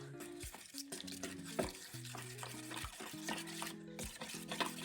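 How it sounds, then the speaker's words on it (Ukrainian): Turkey meat with pressed garlic stirred in a pan, repeated scraping and clinking of the utensil against the pan over a soft sizzle, close and fairly quiet. "все перемішую"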